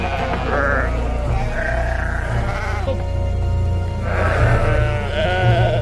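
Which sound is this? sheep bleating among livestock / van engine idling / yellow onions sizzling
sheep bleating among livestock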